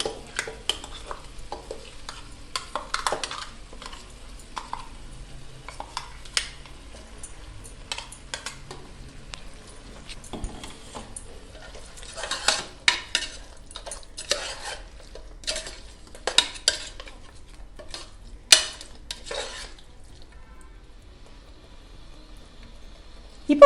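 Mutton sautéed with salt, curry leaves and ground masala in a cooker for kulambu: intermittent spoon stirring and scraping against the pot over a faint sizzle, close and fairly quiet, with no talk.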